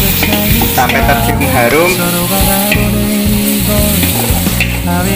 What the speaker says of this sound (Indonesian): kita masukkan bumbu yang sudah diulek. Kita aduk sampai merata